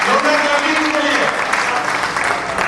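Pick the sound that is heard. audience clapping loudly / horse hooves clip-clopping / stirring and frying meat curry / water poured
audience clapping loudly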